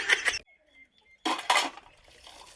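Dishes clattering as they are washed by hand, with two close, sharp bursts of clinking pots and plates separated by a near-silent pause and faint small knocks in between.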